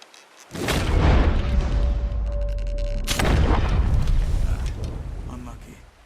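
A hunting rifle shot in Red Dead Redemption 2 gives a loud broadband boom with a long, rumbling decay, followed by a second heavy blast that fades out slowly.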